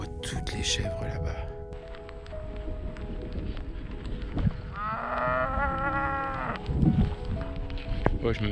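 Cattle on a mountainside moo in a long, drawn-out call midway through, set against steady outdoor rumble and rustling, with a person speaking quietly nearby.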